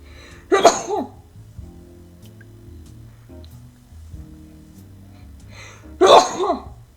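Two sharp sneezes, one early and one near the end, loud and close, separated by a stretch of quiet background hum, while playing the PC game Martin Mystère.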